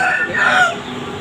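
Chickens on a poultry farm give a brief burst of high, strained calling, a rooster's crow overlapping with clucking, loud and close.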